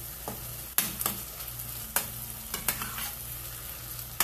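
Finely chopped serrano chile fries with seasoned tomato and onion in a pan, a constant close sizzle punctuated by a few sharp spoon scrapes and knocks.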